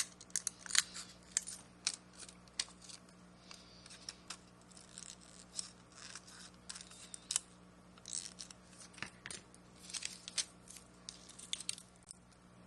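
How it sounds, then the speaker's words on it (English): Scissors snip through paper while a collage is trimmed flat, a quiet run of short crisp cuts coming in irregular bursts against a low steady hum. "And trim it so there's no bulges or cracks or anything like that."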